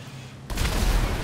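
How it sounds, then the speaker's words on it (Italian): A big explosion in a video game goes off suddenly after a quiet moment, then a loud, dense rumbling roar with crackling bursts follows and keeps going to the end. "Olè! Mega esplosione!"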